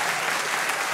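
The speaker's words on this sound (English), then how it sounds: "let's give them a fucking good old applause" A short, dense burst of applause from many hands, loud and continuous with no gaps.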